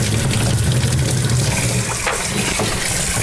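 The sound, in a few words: rinsing aquarium items under running water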